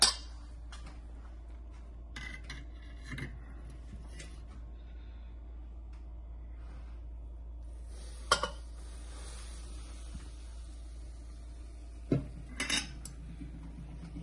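A hot metal cooking pot clanks and scrapes a few times against a steady low hum, with sharp clinks at the start and near the end amid soft rustling.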